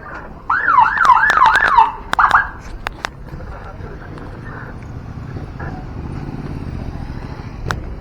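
A presidential motorcade passes through Kayu Tanam in Padang Pariaman, West Sumatra, with a loud wailing siren sweeping up and down several times in the first two seconds, then fading into traffic rumble and distant background noise.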